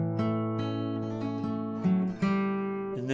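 An acoustic-style guitar phrase, steady plucked arpeggio notes ringing into each other at an even pace, close and clear with no talking.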